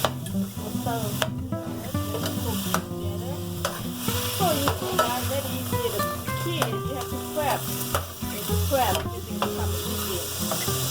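Green curry paste sizzles loudly in a hot pan for a Lao green curry with pork, with continuous frying hiss and repeated scraping stirs over a busy background of other sounds, no talking.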